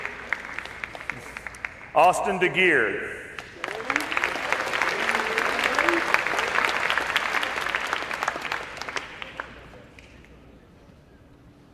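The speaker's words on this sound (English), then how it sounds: "And yes, y'all can applaud these people." Audience applause for student athletes at a 2021 athletic recognition night, a steady burst of clapping running about eight seconds before tapering off, with a voice announcing a name just before it starts.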